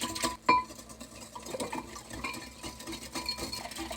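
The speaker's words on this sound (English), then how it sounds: "We're going to whisk all these into our yeast" A whisk stirs melted butter and other ingredients into a yeast mixture for holiday beignets, giving irregular clinks and scrapes against the bowl at a moderate level with no talking.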